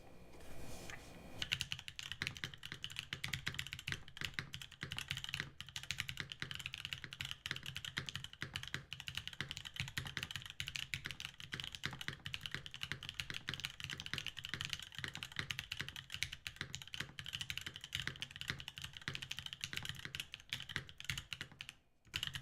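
Continuous typing on a DaringRun Flip 6P mechanical keyboard with an aluminum plate, stabilizers and keycaps fitted, a dense steady run of close, crisp keystrokes lasting over twenty seconds with no talking.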